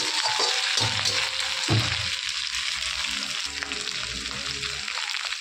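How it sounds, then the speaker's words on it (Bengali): Fish heads fry in a pan of hot oil, giving a continuous close sizzle with a few low clunks and rattles from the pan as the pieces shift. "এখন আমি এর সঙ্গে অ্যাড করে দিয়েছি, একটু ভালো করে ভেজে নেব এখন।"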